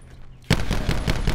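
Video-game gunfire breaks out after a short quiet lead-in as a quick run of loud, sharp shots in rapid succession, like a blind spray of fire.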